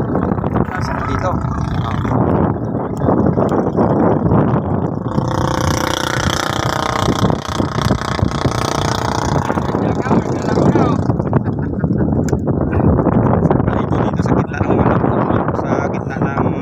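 Steady wind gusting over open water near a boat, a loud continuous rushing roar with a droning undertone, voices talking throughout.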